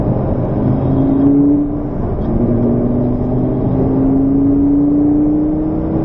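From inside a sports car, a Lamborghini Gallardo or Ferrari F430 driven on a coned test course, the engine note rises steadily as it accelerates, a smooth droning whine over a constant road rumble.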